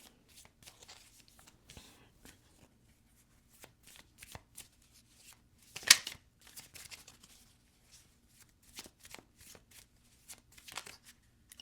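Tarot cards are shuffled in quiet, irregular riffling bursts, with one sharper snap partway through and soft handling sounds around it.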